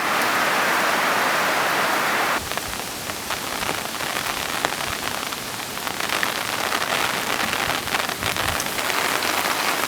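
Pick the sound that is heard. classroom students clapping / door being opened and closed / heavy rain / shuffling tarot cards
heavy rain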